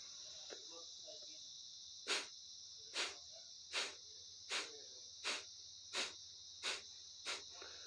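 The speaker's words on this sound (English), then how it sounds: "Kapa Bhatti, which translates to breath of fire, it's essentially fast breathing" Fast kapalbhati (breath of fire) breathing through the nose: about eight sharp, evenly spaced nasal exhales over a steady high-pitched background hum.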